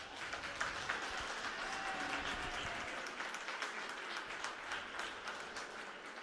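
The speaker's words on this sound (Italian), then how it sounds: "Applauso del pubblico dei beniamini del giocatore" At an Italian Serie A2 roller hockey match between Breganze and Montecchio Precalcino, the crowd applauds. The clapping is faint, distant and steady, a soft crackle in a quiet arena.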